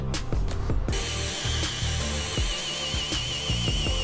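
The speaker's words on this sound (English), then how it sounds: "It'll keep me nice and centered while I drill out the rest." A high-pitched power drill whines continuously, drilling into the bottom of a boat's hull, with faint clicks and knocks from work underneath.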